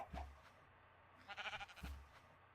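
Sheep in the Minecraft-like game Agrarian Skies bleat in two short, quiet calls about two seconds apart, with a faint wavering tone between them over a low hum.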